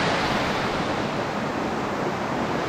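Waves washing in at a shoreline near Honnavar, a steady, loud broadband rush of surf and foam with no breaks or voices.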